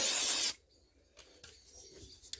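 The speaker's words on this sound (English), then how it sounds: "we're going to just give this a clean out with this contact spray" Contact spray cleaning the windings of a Lister generator, a loud close hiss lasting about half a second, then a few faint handling sounds.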